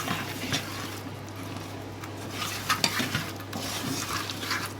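Fish pieces being tossed and mixed with salt and chili powder in a bowl, soft wet stirring and scraping with occasional light knocks, close and fairly quiet.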